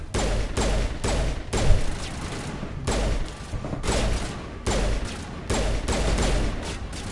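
Gunfire in Mass Effect: Legendary Edition, with repeated loud bursts of rapid automatic shots in clusters of about a second each, separated by short gaps, close and dominant with no talk.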